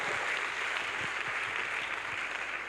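Steady audience applause at an inauguration ceremony for the Edo State College of Agriculture and Natural Resources, a dense continuous clatter of many hands filling the whole stretch with no voices over it.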